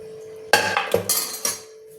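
Leftover sambar being transferred from a pressure cooker into another vessel in a home kitchen, marked by several sharp metallic clanks and scrapes of the pots in quick succession, close and fairly loud with no talking.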